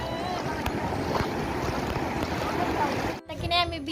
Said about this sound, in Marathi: बघा किती मोठ्या समुद्राच्या लाटा आहेत.